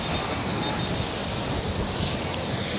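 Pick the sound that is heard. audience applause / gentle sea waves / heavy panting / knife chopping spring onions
gentle sea waves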